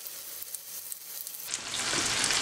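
Paneer nuggets dropped one by one into hot oil, the frying sizzle starting soft and then swelling into a loud, steady crackle and hiss, with no one talking.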